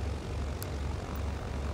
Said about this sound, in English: Let the engines run for a minute.